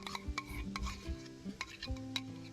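Sisig frying in a pan with freshly added sauce, stirred with a utensil that scrapes and taps against the metal in uneven strokes over a steady close sizzle.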